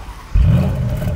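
A Bentley engine fires up into a sudden rev after a short quiet moment, a deep, loud rumble that holds and slowly eases off.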